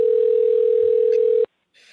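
A telephone dial tone after a dropped call: one steady, loud, unbroken tone that holds for about a second and a half, then cuts off abruptly, leaving faint background hiss.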